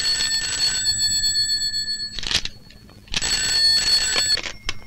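A telephone rings in two loud bursts of rapid electric bell trilling separated by a short gap, with a faint background hum and no talking.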